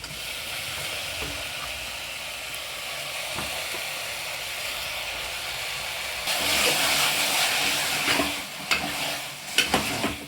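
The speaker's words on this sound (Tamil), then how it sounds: "இப்போ நம்ம வந்து வாஷ் பண்ணி வச்சோம் இல்லைங்களா மட்டனு, அதை வந்து இதில் சேர்த்துக்கலாம்." Washed mutton pieces tipped into an onion-tomato masala hiss and sizzle in a hot pan, a steady frying crackle that swells louder partway through with a few sharp spatters near the end, no voices.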